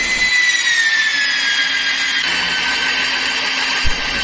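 Steady high-pitched whine of a magnetic base drill boring into metal with coolant, with a falling tone early on and continuous grinding, close and loud throughout.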